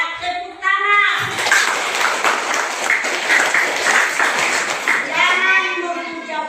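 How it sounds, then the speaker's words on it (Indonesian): A group claps their hands in a loud burst of about four and a half seconds, and a voice speaks just before and right after the clapping. "Ya, tepuk tangan."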